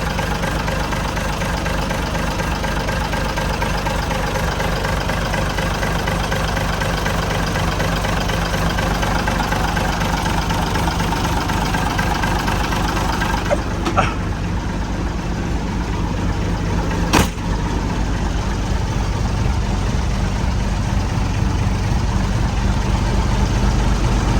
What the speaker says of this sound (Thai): เครื่องนี้สั่นทีนะครับ เป็นเครื่องธรรมดา ไม่มีโบนะครับ